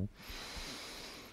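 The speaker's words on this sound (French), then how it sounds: "Une respiration." A single deep breath drawn in during a guided heart-opening exercise, soft and close with a breathy hiss lasting about a second.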